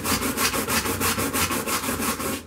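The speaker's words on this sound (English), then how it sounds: "spend a bit of time at this point, scrubbing and scrubbing and scrubbing" A brush scrubs hard over a leaded stained glass panel in quick, regular back-and-forth strokes, close and loud, about five strokes a second for the whole stretch with no talk.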